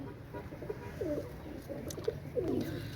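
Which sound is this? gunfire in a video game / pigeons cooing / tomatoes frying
pigeons cooing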